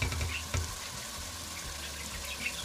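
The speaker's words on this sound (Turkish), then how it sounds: "Kavurmaya devam ediyorum." Tomato paste sizzles as it is sautéed in a pan, a steady crackling fry broken by a few soft knocks of a utensil stirring against the pan.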